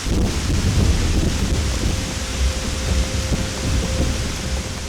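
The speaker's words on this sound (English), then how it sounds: "And then the rain comes." Heavy rain falls steadily in the mountains of Borneo on Mount Tambuyukon, a dense continuous wash with low rumbling gusts of wind buffeting the microphone, close and loud throughout with no voices.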